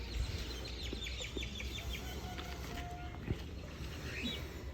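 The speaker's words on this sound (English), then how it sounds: "with the background of roosters." Roosters crow at a distance behind a rural street scene, several faint calls and clucks rising over a quiet low background hum, with no speech on top.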